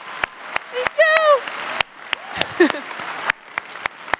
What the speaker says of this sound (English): give Tyra Banks a round of applause